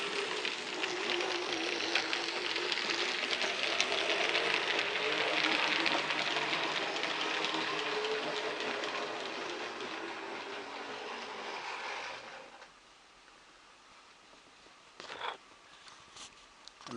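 Model railway train at Granba running around a bend, a steady broadband rolling rush for about twelve seconds before it drops away to a quiet hum with a few faint clicks near the end.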